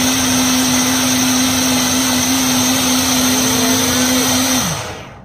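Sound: blender blending eggs, cheese and yogurt

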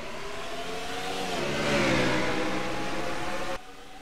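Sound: race cars accelerating at green flag in racing video game

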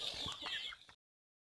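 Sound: chickens clucking, waiting to be fed

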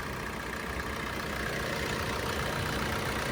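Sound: Maruti Brezza ZDi diesel engine idling

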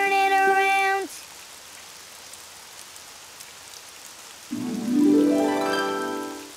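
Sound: rain falling outside

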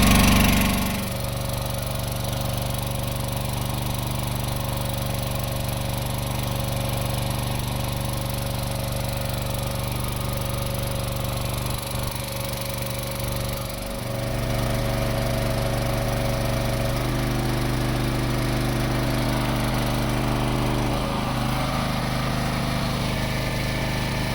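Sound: Champion gas-petrol 7 kW generator running on petrol

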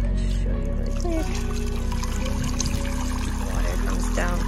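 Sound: water pouring down waterfall of kids' splash water table

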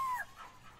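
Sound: dog barking in a VR game

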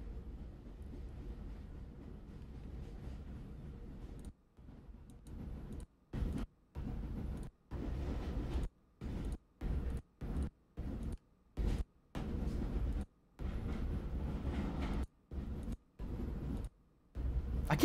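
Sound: train sound effect

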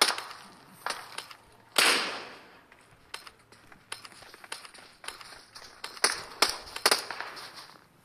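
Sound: gunfire in PUBG Mobile, a video game

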